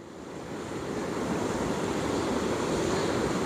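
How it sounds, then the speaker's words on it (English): Powerful whitewater roars through a massive river rapid during a boat ride, a dense, continuous rushing wash that swells slightly and stays loud throughout, with wind buffeting mixed in. "Yo, that's a massive rapid."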